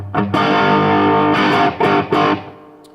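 An electric guitar plays a few sustained lead notes through a Yamaha THR100 amp on its lead channel with boosted mids, 6L6 Class A setting, and light, crunchy distortion, each note ringing out before fading.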